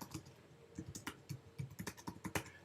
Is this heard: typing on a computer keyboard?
yes